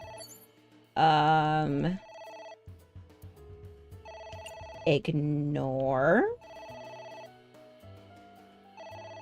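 Electronic telephone ringing in AI: The Somnium Files video game, a steady repeating tonal ring with game music underneath, while a person talks over it and briefly imitates the ringing with their voice.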